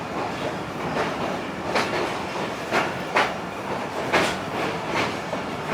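A train at Rohri Junction, a busy Pakistan Railway junction, rumbling past close by with steady rolling noise and rhythmic wheel clacks recurring about every second.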